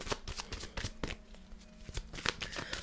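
Oracle of Wisdom tarot cards being shuffled by hand, a close, papery riffling with quick repeated flicks and soft slaps, steady throughout with no talking.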